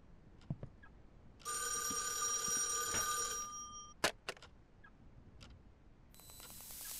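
Telephone ringing inside a horror video game: a bright, tonal electronic bell burst lasting about two seconds, followed by sharp clicks and a brief hiss, heard alone with no voices.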